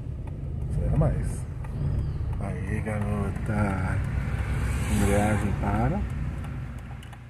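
A car engine labours steadily as it climbs a hill during a driving lesson, a low rumble running under continuous talk.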